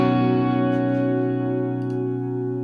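Electric guitar on a clean setting rings out in a sustained, bright strummed chord that slowly decays, loud and close with a slight shimmer of effects and no talking over it.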